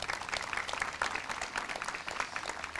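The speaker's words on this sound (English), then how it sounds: "You can clap." Applause from the audience at an elementary school open house for community supervisors and emergency service personnel, a steady dense patter of many hands clapping at moderate distance, fairly soft throughout.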